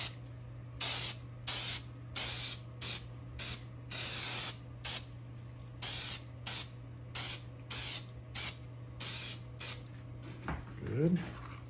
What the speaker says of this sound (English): Feels like the original spray in there is pretty well dried out, so let's go ahead and hit it one more time.